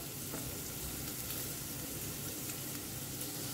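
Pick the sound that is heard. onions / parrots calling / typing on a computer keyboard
onions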